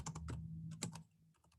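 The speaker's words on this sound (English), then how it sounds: "I could type in just sold." Fingers type on a computer keyboard, a quick cluster of about a dozen close, soft key clicks in an uneven rhythm, fading toward the end with no talking.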